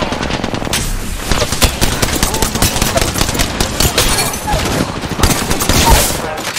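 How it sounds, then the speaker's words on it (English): Sustained rapid gunfire from a video game shooter, dense bursts of automatic weapon fire rolling continuously and loudly throughout, with a faint voice underneath. "They're shooting at me."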